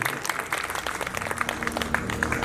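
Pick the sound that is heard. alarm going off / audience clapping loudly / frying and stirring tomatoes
audience clapping loudly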